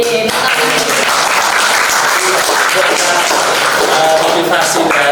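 An audience at a school visit podcast event claps loudly and continuously for about five seconds. The applause is close and dense, with no break.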